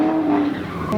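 A car shreds its tires at the Hoonigan exhibit during SEMA 2021 in Las Vegas, a loud, sustained engine roar with tire squeal held steady through one brief, close burst.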